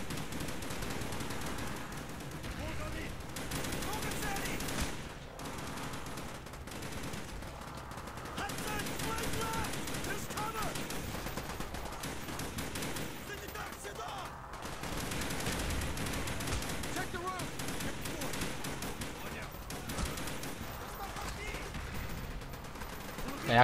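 Sustained automatic weapon fire from the video game Call of Duty: Black Ops, dense bursts rattling on for most of the stretch with brief lulls, loud and close, with someone talking over it at times.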